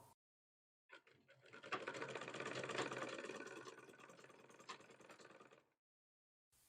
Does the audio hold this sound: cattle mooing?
no